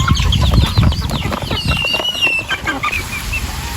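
Chickens squabble over food, with dense overlapping clucks and squawks, sharp pecking taps and a flap of wings, loud and close, with no voices.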